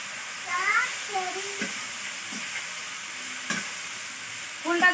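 Jujubes (kul) fry in hot oil with dried chilies for a sweet-sour pickle, giving a soft sizzle under intermittent scrapes and clinks of a stirring spoon, with a few faint voice-like sounds in the background.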